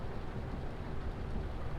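Steady rain falls in Farming Simulator 25, a dense, even hiss of drops holding level from start to finish with no talk over it.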